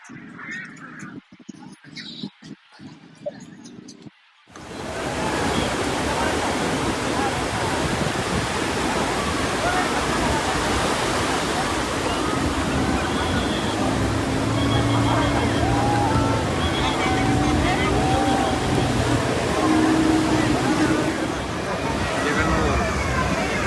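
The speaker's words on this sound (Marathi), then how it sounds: "आम्ही फिरतोय गोव्याच्या किनाऱ्यावर" Waves rolling onto a Goa beach make a loud, continuous rushing surf that sweeps in after a few seconds of quieter sound with brief voices at the start, then holds steady.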